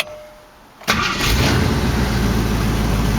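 A 1968 AMC AMX 401 V8 engine with a replaced bad lifter cranks briefly and catches, roaring to life and settling into a loud, steady idle around 1200 rpm close by.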